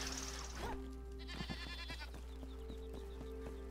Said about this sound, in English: Man, it sounds like that goat is inside.